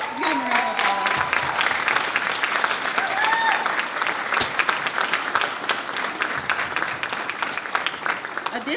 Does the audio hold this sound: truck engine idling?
no